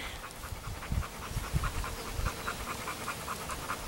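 A dog pants rapidly and rhythmically close by on a wild trail, with quick steady breaths continuing throughout and no speech.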